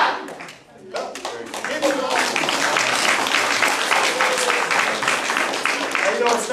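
A crowd applauds loudly and steadily for a student just promoted to orange belt at a family martial arts center's belt ceremony, the clapping sustained and dense with no voices over it.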